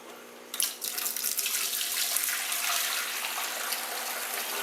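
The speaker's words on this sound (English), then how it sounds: "So I'm just filling it up with water right now." Water pours and splashes into an aquarium filter during a water change on a 90-gallon discus tank, a continuous gushing that starts abruptly after a quiet moment and runs steadily, close by.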